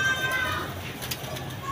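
Pigeons from a large backyard flock of several hundred birds coo softly and indistinctly beneath a steady hum of nearby voices and background noise.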